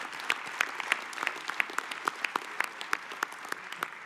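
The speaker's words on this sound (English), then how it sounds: "I would like to suggest we give staff a big round of applause for putting this together" An audience at a U.S. Soccer annual general meeting claps for the staff, a steady round of applause from a hall full of people with distinct, sharp individual claps standing out over a continuous patter.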